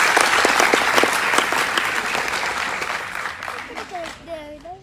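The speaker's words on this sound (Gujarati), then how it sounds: "એકવાર જોરદાર તમારા બધા માટે તાળી દઈએ." Loud, dense applause from a gathered audience at a Netsurf business meeting, steady for several seconds then thinning out, with a voice speaking over the tail end.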